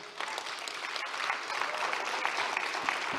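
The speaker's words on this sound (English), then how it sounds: "what are they clapping for?" Steady applause from a crowd, a dense patter of clapping that builds slightly and holds throughout.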